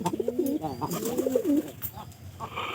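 A pigeon coos close by in a series of soft, rolling, throaty calls, with faint background murmur.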